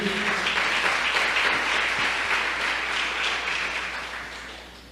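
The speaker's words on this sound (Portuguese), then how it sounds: "Pode aplaudir a ele." A church congregation claps in sustained, dense applause that holds steady and then gradually fades toward the end, with no voices over it.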